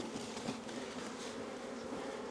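Dense, steady buzzing of many honey bees swarming around an opened beehive during an inspection, a continuous close drone filling the air with no voices.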